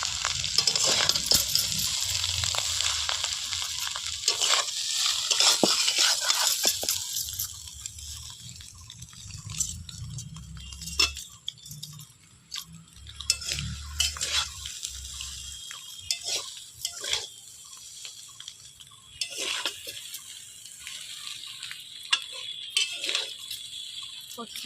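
Chow mein being stirred in a pan with a spatula, with clattering scrapes and light frying crackle that are busy at first and then sparser, set against a low background hum.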